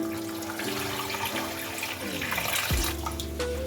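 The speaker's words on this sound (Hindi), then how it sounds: "इसमें खुला पानी डाल दें" Water runs steadily into a cooking pot holding marrow bones for a beef nihari stock, its filling pitch shifting and rising, with a sloshing splash near the end, close up and without talk.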